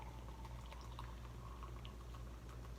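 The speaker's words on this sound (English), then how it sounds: "Then I'm going to give it a hard pour into the glass here." Guinness Draught Stout is poured hard into a glass, giving a quiet, steady liquid rush with faint fizzing close by.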